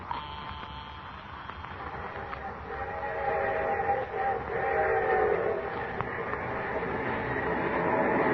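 A train running along the railway as a radio drama effect: a steady, muffled rumble of wheels that swells louder midway, with faint whistle tones drifting above.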